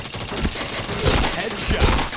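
Rapid bursts of shooter video game gunfire with sharp cracks and dense, clattering impacts, loud and steady throughout, two heavier bursts standing out.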